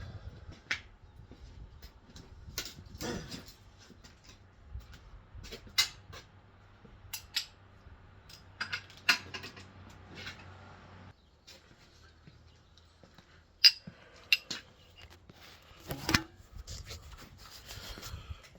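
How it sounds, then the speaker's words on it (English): Hand ratchet clicking as bolts get their final tightening on a Dana 44 HD aluminum axle housing for a Jeep WJ, with short close clicks and bursts spread irregularly over a quiet shop background. "So I'm going to switch over to my ratchet just to tighten it up."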